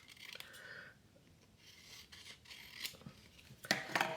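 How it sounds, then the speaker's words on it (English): Scissors cut a piece of paper off for a handmade dressmaker-themed journal, with soft snipping and rubbing sounds, a few short faint cuts, then two sharper clicks near the end, close and alone. "we'll go ahead and cut this piece off"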